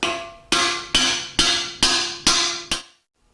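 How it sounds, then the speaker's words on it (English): An installer tool is hammered to drive a bushing into a Drag Race Powerglide transmission part, seven sharp metallic ringing strikes in an even rhythm, close and loud, each decaying before the next, then silence. "So I'll take my little installer tool, try to make it as straight as I can, as straight up and down as I can, so the bushing goes in good and square."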